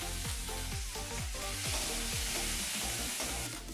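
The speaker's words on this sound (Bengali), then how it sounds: "ফোড়ন ভাজা হয়ে গিয়েছে, এখন এর মধ্যে দিচ্ছি আমি পেঁয়াজ কুচি" Chopped onion frying in mustard oil after the whole spices, a steady loud sizzle with rhythmic scraping and stirring of a spatula against the pan.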